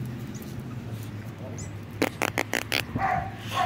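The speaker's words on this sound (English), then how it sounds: "That's Canela, the neighbor's weenie dog over there, barking a lot." A small dachshund barks several times in a quick burst, somewhat distant, over faint background noise.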